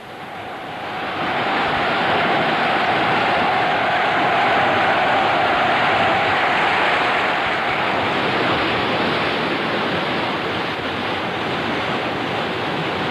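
Abundant water flowing in a Cambodian rural irrigation setting, a steady broadband rushing wash that swells after the first second and holds loud and continuous throughout.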